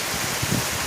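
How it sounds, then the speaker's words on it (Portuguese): Heavy rain pours down in a rural Brazilian sertão setting, a dense, steady hiss filling the brief moment without any speech. "E tome chuva!"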